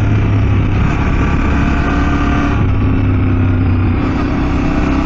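Yamaha Ténéré 700 motorcycle engine running steadily after a downshift to a lower gear, a loud, constant low drone with rumbling wind noise close to the rider and no speech.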